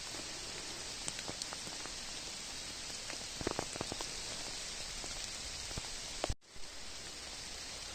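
Continuous rain in a Carpathian forest in April, a constant hiss with a cluster of louder drips and taps in the middle, then a sudden brief dropout before the hiss resumes; no talking.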